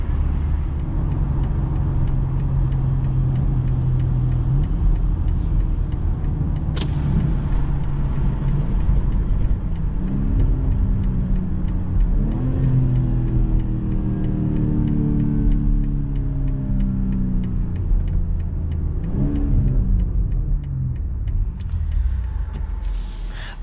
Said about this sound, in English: This exhaust setup is just amazing on this X3. Seriously, BMW did a great job with the sound with this BMW.